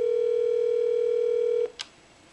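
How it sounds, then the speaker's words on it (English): A Cisco SPA525G IP phone gives a loud, steady, continuous dial tone that cuts off abruptly, followed by a single short click. "and I can now dial again"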